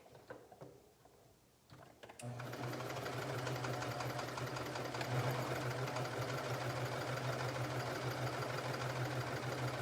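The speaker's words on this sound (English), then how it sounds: "sewing along the edge, the top of the pocket" A sewing machine stitches along the hem at the top of a pocket, starting after a quiet moment and then running steadily, a close, continuous motor whir with a rapid needle rhythm and no talking.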